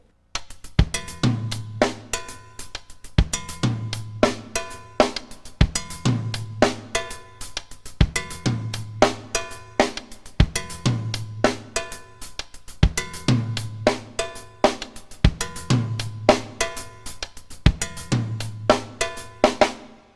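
A drum set plays a repeating songo groove, steady kick and tom accents under busy hi-hat and snare strokes, looping evenly throughout with no voices.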